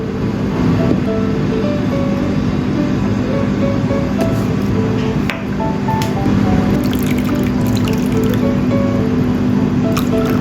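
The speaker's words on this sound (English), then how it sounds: "Add water and stir well." Water is poured into a seasoning of oyster sauce, soy sauce and cornstarch and stirred, giving a steady, close, wet swishing and dripping sound with no talking.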